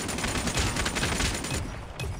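Razorback submachine gun fire in Call of Duty Mobile, a close, loud rapid stream of shots that cuts off abruptly near the end.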